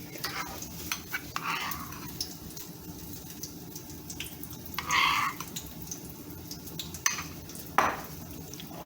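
Burger sauce is stirred in a bowl with a utensil, giving a steady wet scraping and swishing with occasional clinks against the bowl, close up and continuous.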